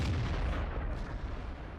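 World of Tanks cannon fire: a heavy low boom with a rumbling tail of distant battle noise, filling a short stretch with dense, muffled low-end thunder and no voices.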